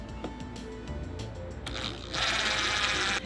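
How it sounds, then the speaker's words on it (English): An impact driver drives long screws into a subwoofer box for a 2022 Toyota Tundra, with rattling mechanical clicks, then a loud sustained whirring burst near the end. "I'm gonna take the longer screws from my hardware kit and my impact, and I'm going to go ahead and insert those"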